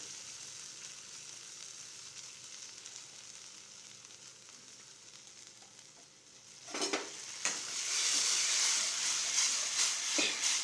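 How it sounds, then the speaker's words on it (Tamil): A roasted brinjal pachadi mixture simmers in a pan with a steady bubbling sizzle, which grows noticeably louder and fuller partway through. "ஒரு அஞ்சு நிமிஷம் கொதித்தா போதும் ரொம்ப கொதிக்க விடக்கூடாது"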